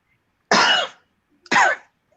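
A man coughs twice, two sharp, close bursts about a second apart, loud and alone with no talking.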